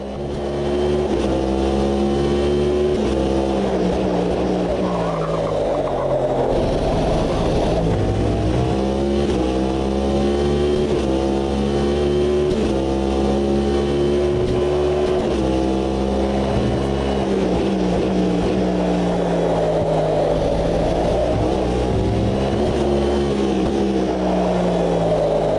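Race car engine of an LMDh prototype in the sim racing game Automobilista 2, loud and continuous, with rising and falling harmonic sweeps as it accelerates and shifts through gears over a full lap, no talking.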